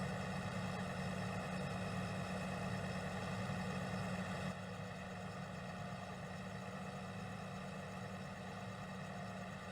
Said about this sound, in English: I have the tractor on Follow Me behind me